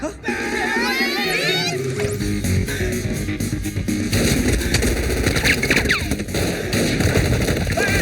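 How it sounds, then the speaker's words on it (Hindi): Rapid bursts of gunfire crackle through a busy, loud mix with children's voices and music, continuing in quick repeated volleys. "गोलियां चल रही है, बचाओ!"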